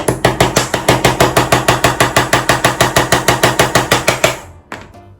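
Rapid, steady hammer blows drive a nail into wood during a woodworking craft session, about twenty close, loud, evenly spaced strikes that stop near the end, followed by a faint knock.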